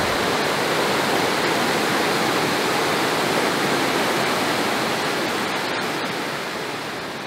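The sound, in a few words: water rushing by in a stream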